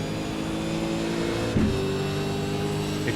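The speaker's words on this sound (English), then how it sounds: "It sounds like his car is at least running fine" A V8 Supercar engine in the iRacing sim at Watkins Glen idles and runs steadily with a droning, harmonic-rich tone, plus a brief rev blip partway through.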